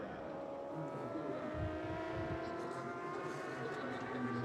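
Sidecar racing outfits at the Imatranajo road race in Imatra, Finland, heading into the second chicane at the halfway point: a loud, continuous engine drone with layered high revs and harmonics, steady throughout.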